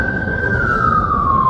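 An emergency vehicle siren sounds close and loud, holding one steady wailing tone that drifts slowly downward across the short span, with no talk over it.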